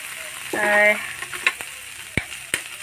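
Titaphul bitter greens frying in a pan with egg, a soft sizzle that rises for a moment, then settles with a few sharp clinks and scrapes of a utensil against the pan.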